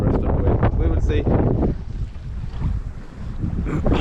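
Strong wind roars and buffets the microphone aboard a sailboat at sea near the coast, with water rushing along the hull; the gusting noise stays loud and steady throughout, easing slightly midway before building again.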